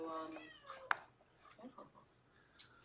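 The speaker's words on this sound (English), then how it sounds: "the cat" Domestic cat meowing indoors, a few short faint mews spread across the stretch amid quiet room sound and a sharp brief knock.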